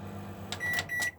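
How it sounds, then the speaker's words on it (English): A microwave oven in a 2019 Swift Solitaire 560 caravan starts up with a low steady hum, and a few bright electronic beeps sound close by over it. No one speaks. "Microwave works like your standard microwave. Just going to show you that working"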